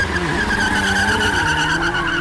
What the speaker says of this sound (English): Its wheels span in place